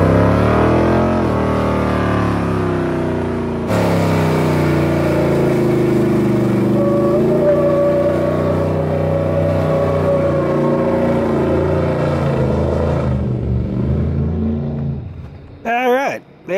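GMC Jimmy engine revving hard while both rear wheels spin, a loud, steady motor drone rising and falling over about fifteen seconds before cutting off, with a short voice at the end.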